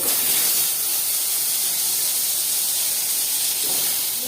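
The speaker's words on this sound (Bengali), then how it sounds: "কড়াইতে এখনও তেল আছে, তো আমি আলুটা যে জলের মধ্যে ভিজিয়ে রেখেছিলাম কেটে, সেটাকেই আমি এর মধ্যে দিয়ে ভেজে নেব" Sliced potatoes, soaked in water beforehand, fry in hot oil in a wok, giving a steady, loud, close hiss and sizzle that carries on without pause and with no talking.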